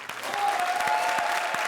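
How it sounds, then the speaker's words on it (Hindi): Studio audience on an Indian comedy show claps in sustained, dense applause, moderately loud and even throughout, with a faint tone running underneath. "जोरदार तालियां कृष्णा और सुदेश के लिए"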